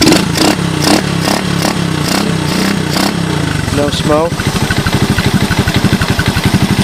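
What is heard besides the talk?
ATV engine running and idling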